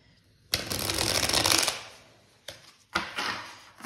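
A deck of six Lucid Dreams Beginner Tarot cards is shuffled in one long riffling burst, followed by two short slaps as cards are drawn and laid down, close up with no talking.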